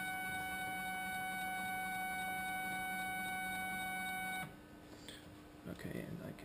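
A 3D printer raises its z-axis by 20 millimeters: steady, close stepper-motor whine with high tonal lines for about four seconds, then a quieter hum with faint talk.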